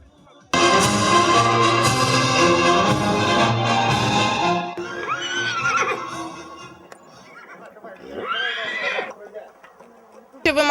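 Horse at a Hutsul trail riding competition gives a long, loud whinny right up close, followed by two shorter, fainter neighs separated by quiet gaps.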